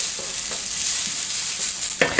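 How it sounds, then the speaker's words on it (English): Whole spices toasting in a hot dry pan give a steady broadband sizzle and rustle, with a few louder stirring scrapes near the end and no voices. "I get to toast these spices a little bit"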